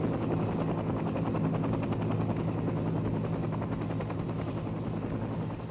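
A Sikorsky CH-53 helicopter flies acrobatic maneuvers over Long Island Sound, its rotor a steady, rapid thumping over a broad engine roar that stays fairly distant and even throughout, with no one talking.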